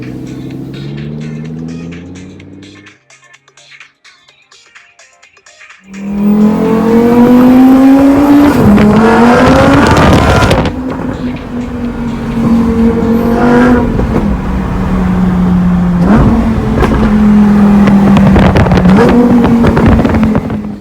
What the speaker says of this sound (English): we're just kind of cruising around town, show you what the drivability is like. And we still are in the Corsa mode, so it's going to be a little bit loud right now